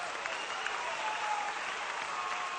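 Tournament crowd applauding in a sports hall during a match, a steady wash of clapping filling the brief moment without voices over it.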